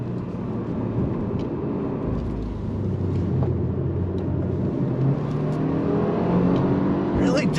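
A Subaru WRX with a CVT automatic accelerates hard, its engine holding a steady, fairly even drone heard from inside the car as the pitch climbs gradually, with faint talk over it.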